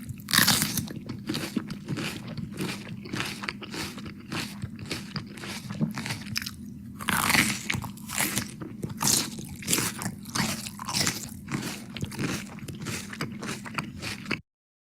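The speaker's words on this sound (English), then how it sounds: "You can tell it's chewing" Loud, close crunching of crisp food being chewed, bite after bite in a quick regular rhythm, with moist squishy crackles between crunches and a brief pause midway, no voices.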